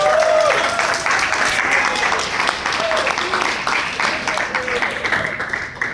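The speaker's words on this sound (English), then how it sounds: "I think Caden deserves a round of applause" At an apprenticeship achievement ceremony, an audience breaks into sustained applause, a dense wash of clapping with some voices mixed in, fading slightly toward the end.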